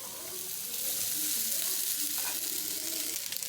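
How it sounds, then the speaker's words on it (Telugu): Carrots sizzling in a hot pan make a steady, close frying hiss with soft crackles and faint stirring scrapes, with a voice talking over it. "ఇలా వేగుతున్న క్యారెట్లో కొంచెం సాల్ట్ వేసుకుందామండి"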